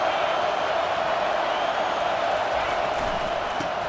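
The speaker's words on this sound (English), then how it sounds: "Listen to this crowd just shaking the girders of this place trying to help their defense" A steady stadium roar at a college football game, a dense continuous wash of crowd noise holding at even loudness without breaks.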